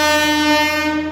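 A train arrives at a station in Agra, giving a loud, sustained horn blast that holds steady for just over a second with no talk over it.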